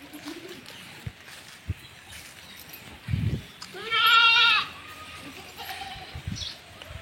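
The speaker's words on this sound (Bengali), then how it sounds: "এখানে ছাগলের খামার, গরুর খামার মাশাআল্লাহ সবই আছে।" Goats at a goat farm give a single clear bleat in the middle, with a shorter low call just before it and scattered faint farmyard noise around it.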